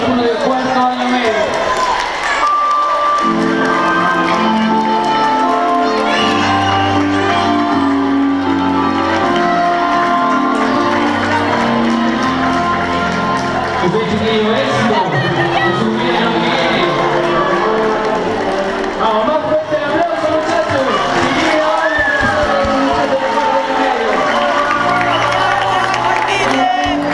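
Crowd at a school farewell ceremony for graduating fourth-year secondary students at Colegio San Esteban de las Vizcachas, with loud, continuous cheering, whooping, shouting and clapping that fills the room for nearly half a minute while voices mix in.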